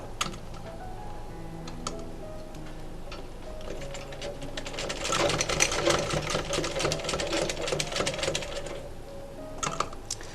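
A sewing machine stitches a cloth face mask in a steady, rapid mechanical patter that grows louder and busier midway, running with no talk and clicking to a stop near the end.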